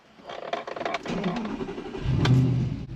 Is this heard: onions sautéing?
no